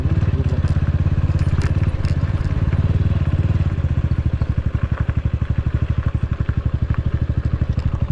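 A motorcycle engine runs at close range on a ride near the Mettur Dam, a loud, steady rhythmic thrum whose pulses become more distinct partway through, with wind roar over it.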